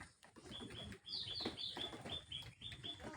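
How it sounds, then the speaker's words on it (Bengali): Two small baby myna chicks chirping in thin, high, repeated calls close by, restless and eager for food, with faint rustling beneath. "দুটো বাচ্চা দেখতে পাচ্ছেন, ছোট্ট ছোট্ট শালিক বাচ্চাগুলো"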